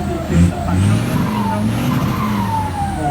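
A car engine roars and revs while tires squeal and skid continuously, loud and close, with voices faintly mixed in, at a merit-making festival in the Buriram area of Thailand.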